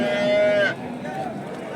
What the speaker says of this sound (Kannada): ಈ ಹಸುದು ಕರು ನೋಡ್ಕೊಳ್ಳಿ, ಅಲ್ಲೇ ಐತೆ